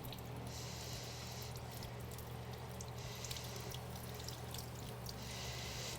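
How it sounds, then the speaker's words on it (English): Cold tap water runs in a gentle, steady stream over a fish fillet in a kitchen sink, a continuous soft pour and trickle close by with no voices. "So just run some cold water and we're gonna rinse that off."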